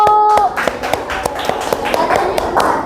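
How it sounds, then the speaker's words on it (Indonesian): Schoolchildren in a fourth-grade arts and culture class clap for a group, a short burst of scattered hand claps heard near with voices talking over it. "Boleh tepuk tangan dulu."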